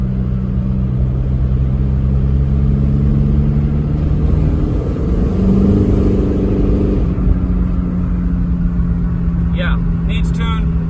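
A TDI diesel car engine that smokes a lot runs steadily with a deep, constant rumble and droning hum close by, with a brief faint clatter near the end.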